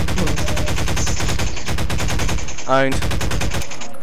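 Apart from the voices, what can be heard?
shotgun fire in video game Garry's Mod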